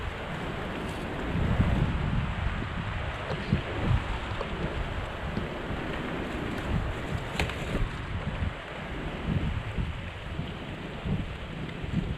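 Strong wind roars and buffets steadily for the whole stretch, with heavy gusty rumble and rustling, no voices.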